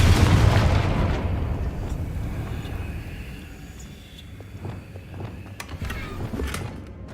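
A Confringo fire spell bursts in the Hogwarts Legacy video game with a loud, deep boom that decays into a long rumbling tail, followed by scattered faint crackles and debris.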